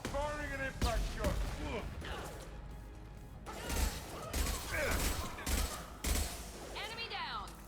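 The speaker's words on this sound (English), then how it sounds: "Firing an impact shot." An impact shot fired in a video game, among repeated sharp bursts and mechanical clatter in a tense firefight, with several voices shouting over the action.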